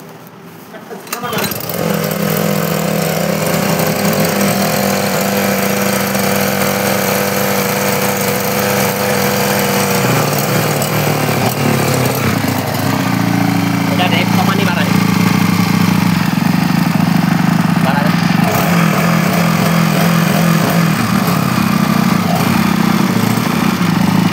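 A Honda HTP 80 spray machine engine starts after a brief quiet moment and then runs at a steady, loud, buzzing idle close by. The pitch shifts slightly partway through, and a voice talks over the running engine.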